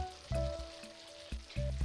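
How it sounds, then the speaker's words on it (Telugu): Fried okra tipped into a bubbling curd gravy for dahi bhindi, giving a steady close sizzle with a few sharp thuds and scrapes as the pieces land and are stirred. "ఇప్పుడు మనం ఫ్రై చేసి పెట్టుకున్న బెండకాయలు వేసుకుందాం"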